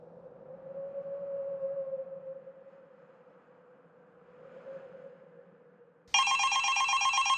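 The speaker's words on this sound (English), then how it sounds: "The phone rang" A phone rings at 5:30 in the morning: a low tonal drone swells and fades, then a loud, bright electronic ringing breaks in abruptly near the end.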